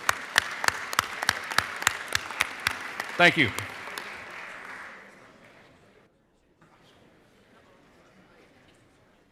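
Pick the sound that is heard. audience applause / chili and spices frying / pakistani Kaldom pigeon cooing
audience applause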